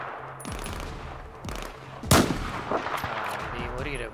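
Gunfire fills a Battlefield 4 match at a dam, with loud bursts of automatic weapon fire, a sharp heavy blast midway and sustained shooting and combat noise throughout.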